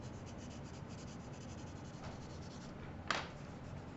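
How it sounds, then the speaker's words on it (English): Pencil shading on paper with the side of the lead: a soft, continuous scratchy rubbing of graphite across the sheet, close and quiet, with one brief sharper stroke near the end. "I'm just adding a little bit of tone. I'm using the side of the pencil because it's easier to smear and easier to erase."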